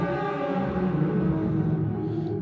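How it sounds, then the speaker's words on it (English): A dense, sustained tonal wash smeared by heavy reverb, holding a steady level throughout with no distinct attacks and no voices. "Just really washed out reverb sound"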